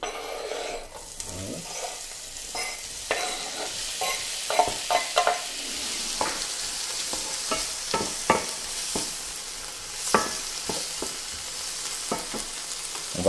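Butter and ingredients sizzle and fry steadily in a pan as the base for Portuguese-style scrambled eggs with tomatoes, with frequent utensil stirs and scrapes clicking close up throughout, no voices.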